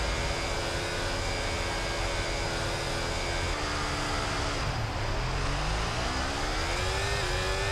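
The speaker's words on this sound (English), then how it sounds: "I'm gonna rev us high." A Formula 1 car engine in the F1 24 racing game, at the start of a race in Las Vegas, revs in a steady, loud, high whine that dips and climbs again midway.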